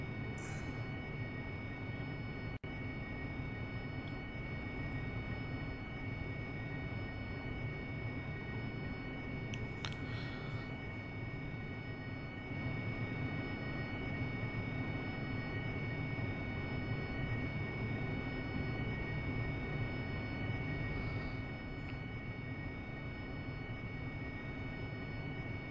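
An AV-8B Harrier jet taxiing in the DCS World flight simulator gives a steady, loud engine drone with a constant whine that runs unbroken throughout, with no talk over it.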